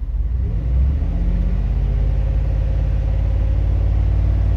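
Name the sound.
car engine revving with a failing alternator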